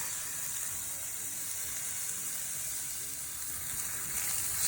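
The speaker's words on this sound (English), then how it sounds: "So I'm just letting this onion saute until it is softened up, not quite translucent" Chopped onion sautéing in olive oil in a pan, a steady close sizzle that holds even and faint throughout with a slight swell at the end, no talking.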